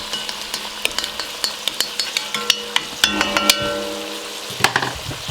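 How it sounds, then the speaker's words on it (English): Bacon sizzles and crackles in the bottom of a pan, a soft steady fry broken by sharp pops and the occasional clink of a utensil stirring, close and fairly quiet. "all good recipes start with bacon simmering in the bottom of a pan"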